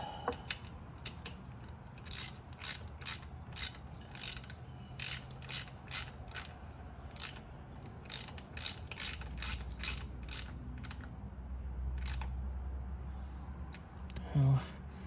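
A ratchet fitted with a 17 mm socket works the oil drain bolt on a Honda CRF300L Rally, giving close, crisp runs of rapid clicking in repeated bursts against a quiet background.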